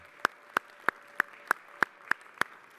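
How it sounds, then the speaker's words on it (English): Applause for staff at a New York City Council meeting comes as eight sharp, evenly spaced claps from what seems a single pair of hands, each crisp and distinct against a quiet room. "I want to give the staff here a round of applause for their work on this lead paint package"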